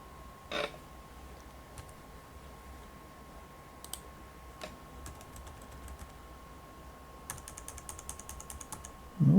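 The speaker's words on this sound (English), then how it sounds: "My arrow keys won't work, and I can't go backspace or delete." Typing on a computer keyboard, sparse scattered key clicks with a quick burst of rapid taps near the end, close and fairly quiet over a low steady hum, no voices.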